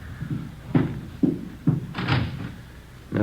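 Closet door in an apartment opened during a police radio drama search, a series of close wooden thunks and knocks with short gaps, ending in another bump.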